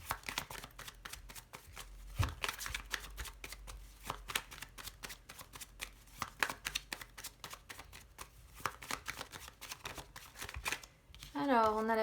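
A deck of tarot cards is shuffled and cut, giving a rapid, close run of crisp riffling and flicking snaps over about twelve seconds while someone talks over it.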